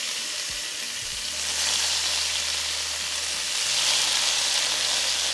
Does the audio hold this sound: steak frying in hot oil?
yes